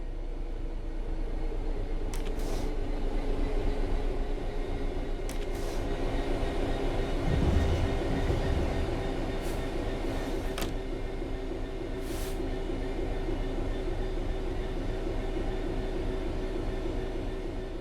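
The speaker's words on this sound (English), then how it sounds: "The train will then coast on level ground, and the train will only slow down very gradually." A train coasting on level ground in the video game Train Sim World 3, heard as a steady rumbling roll with a low hum and a few faint clicks and clanks over the top.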